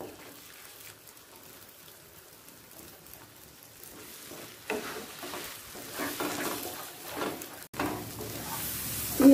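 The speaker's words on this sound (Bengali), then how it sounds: "পেঁয়াজ আর ডিমটা একসাথে ভাজা হয়ে গেছে, ভাজা ভাজা মতো হয়ে গেছে।" Three beaten eggs and onion fry together in a pan over a high gas flame, a steady sizzle that grows louder and denser toward the end, with no talking.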